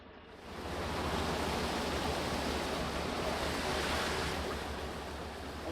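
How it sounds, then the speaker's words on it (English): Water gushing through a lock gate on the Oxford Canal, a loud, dense, continuous roar of rushing water that swells in quickly and holds steady throughout. "Another gushing lock."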